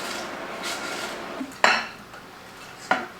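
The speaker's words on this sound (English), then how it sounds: "You can hear the crispiness in the pan." Calamari crisping as it is tossed in butter in a pan, with a low sizzle under sharp metallic scrapes and clatters of a utensil against the pan, close up, and no talking.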